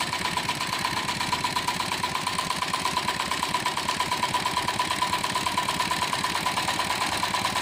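A small gamma-type Stirling engine built from used cans runs steadily, giving a fast, even mechanical ticking and whirring at a stable speed, fairly faint and without talk.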